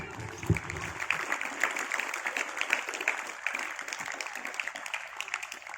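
Audience applause at an Islamic boarding school opening ceremony, a steady wash of many hands clapping with some crowd murmur underneath, moderately loud and continuous throughout.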